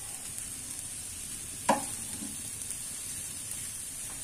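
Grated coconut, about three cups from one coconut, being stirred slowly in a pan. A steady low sizzle runs throughout, with one brief scraping stir near the middle and no talking.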